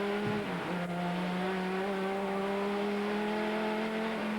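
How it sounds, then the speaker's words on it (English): A Viper race car at full power in a Grand-Am sports car race in 2000, its engine holding a loud, steady high-pitched drone after a brief dip as it pulls back in front, with a Lola prototype close behind. "the Viper gets his power down and moves back in front again"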